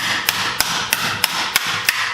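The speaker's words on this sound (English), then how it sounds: "And to take that out, hammer and chisel" A hammer drives a chisel to knock out small metal wedges during stump-and-shrink metal shaping, six sharp, evenly spaced strikes ringing out loud and close over a quiet background.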